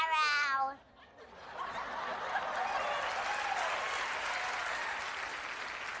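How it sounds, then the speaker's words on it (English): A TV show audience breaks into clapping after a child's Shakespeare recitation, a full, steady round of applause with scattered light laughter, following a brief spoken line at the start. "Jackson, they're a little slow clapping because they don't know none of this"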